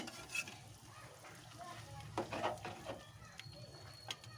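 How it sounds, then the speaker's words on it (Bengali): Meat stir-fries in a pan, a faint, steady sizzle running under soft scraping stirs, with occasional louder stirring strokes and some distant background sounds from outdoors. "মাংসটা অনেকক্ষণ ধরে কষলে ভিতর থেকেও একটা সুন্দর হয়, উপর থেকেও একটা কালার আসে"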